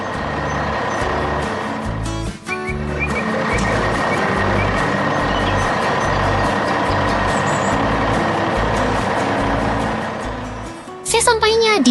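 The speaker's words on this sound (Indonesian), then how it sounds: "Kini truk hijau itu melaju dengan pasti melalui jalanan kota." An animated green truck drives through city streets, its engine droning steadily under a repeating pulsed beeping while a narrator speaks over it.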